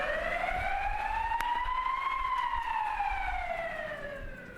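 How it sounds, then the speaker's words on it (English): An ambulance siren wails steadily, its pitch sweeping slowly up and then back down, loud and fairly close, with no voices. "The wail of ambulance sirens several times an hour became commonplace."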